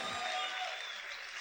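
A church congregation applauding loudly for the Lord after a call to shout and clap, a dense wash of many hands sounding close and steady for a moment.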